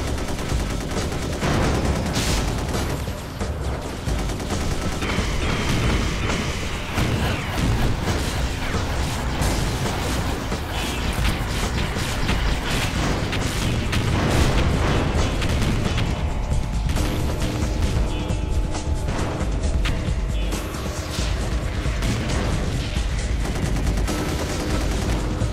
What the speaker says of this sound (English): Stop shooting my guys!